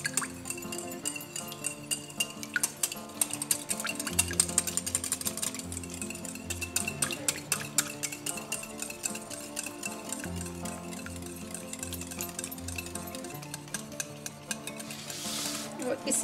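Chocolate cupcake batter gets mixed in a bowl, a steady rapid whisking or stirring with light clinks against the sides, continuous and close over faint background music.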